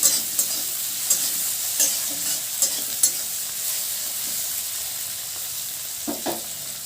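Egg bhujia frying in a pan with salt and spices, a continuous sizzle broken by sharp scraping strokes of a spatula near the start, the stirring easing off toward the end.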